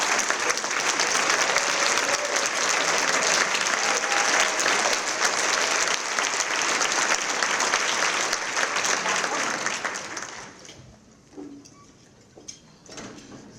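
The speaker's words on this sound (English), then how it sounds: "Let's give a round of applause." Long, loud applause from a luncheon crowd at a cooperative awards event, thick sustained clapping for about ten seconds before thinning out, with a few scattered claps and faint murmurs at the end.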